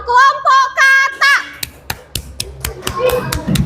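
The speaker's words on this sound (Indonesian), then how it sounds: "Beri tepuk tangannya untuk kelompok kata." Children in a classroom clap for a fellow student group: after a few sung or chanted syllables, a burst of sharp, close, rhythmic claps follows, roughly in unison, then breaks into looser clapping and chatter.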